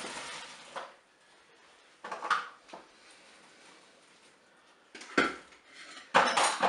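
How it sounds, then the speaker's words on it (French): Metal pot and utensil clatter from draining boiled potatoes out of a Cookeo multicooker bowl, with a few close clanks and scrapes separated by quiet pauses. "Et puis, on va égoutter le contenu"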